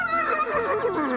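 A cartoon horse wearing an Easter bonnet lets out a single short, wavering neigh, up close and alone in an animated Paris street scene.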